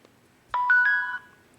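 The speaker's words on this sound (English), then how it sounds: "So to power it on, you hold this thing down for 3 seconds." A Camstro doorbell camera plays a short electronic power-on chime: three rising tones stepping up in quick succession and held for about half a second, loud and clear against near silence.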